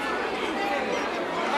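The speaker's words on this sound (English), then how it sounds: "This is the crowd surrounding them as they're signing autographs." A close, dense crowd murmurs and chatters continuously around singers signing autographs, with overlapping voices forming a steady wall of talk.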